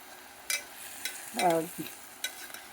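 Ginger garlic paste, tomatoes, mint and moong dal fry in a pan for brown rice khichdi, heard as a quiet sizzle broken by several sharp stirring scrapes and a brief voice-like sound in the middle.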